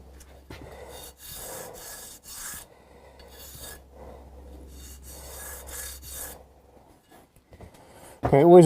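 A file rasps in repeated short strokes, rounding over the edges of a guitar nut on a Hofner Galaxie during a luthier's restoration, close and fairly loud, with a brief louder clatter near the end.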